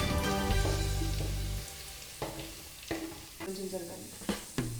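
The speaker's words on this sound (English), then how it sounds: "give a quick shot of mix so that the curry leaves should properly blend with the onions" Curry leaves and onions fry for a fish curry, a close sizzling hiss joined by several sharp stirring scrapes at irregular intervals, with background music fading out early on.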